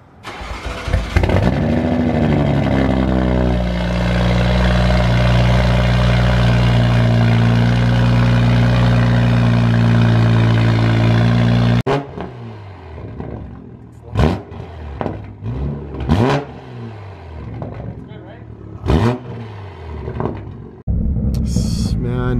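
A Toyota Supra Mk5 fitted with a Tomei exhaust cranks and starts, then holds a loud, steady droning idle before sharp rev blips crackle out in bursts, with people talking nearby.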